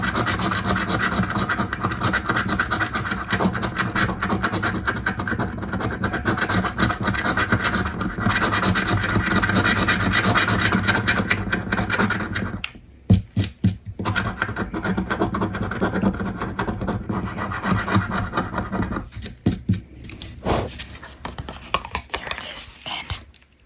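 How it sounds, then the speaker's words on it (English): A lottery scratch ticket is scraped close up for a long stretch of dense, continuous scratching, briefly pausing into a few separate scrapes before resuming, with soft whispered talk in the background. "So we're gonna start by scratching them off."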